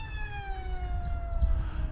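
Durafly Me-163 V2 RC model plane cruising past at about half throttle, a steady electric whine gliding downward in pitch as it passes, over light wind rumble.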